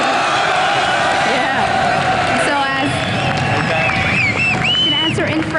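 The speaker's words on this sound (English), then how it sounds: "this crowd is so loud that we can't even hear the noise you make" A loud crowd at a League of Legends LCS 2013 EU esports match roars, whoops and cheers continuously, with voices shouting over the din.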